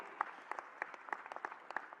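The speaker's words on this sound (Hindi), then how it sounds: "ताली बजाओ तो दिल खोल के बजाओ, ऐसा लगे कि ताली बज रही।" Audience applause at a political address by a state chief minister, with scattered bursts of clapping repeating steadily for about two seconds, moderately loud and without speech.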